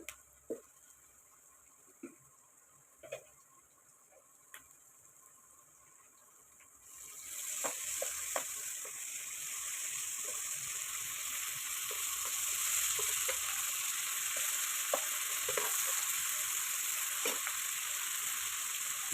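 Ginger paste for a chicken bones curry hits a hot pan: a few quiet utensil clicks, then a sudden loud sizzle that keeps frying steadily, punctuated by stirring taps.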